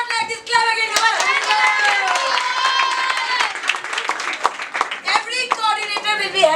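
An audience claps together during an English Cafe role-play event, a steady patter of many hands mixed with overlapping voices and chatter throughout.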